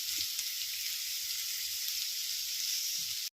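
Carrot and green chilli fry with onions in a pan, a steady, loud hissing sizzle that holds constant with faint low knocks beneath before cutting off abruptly at the end.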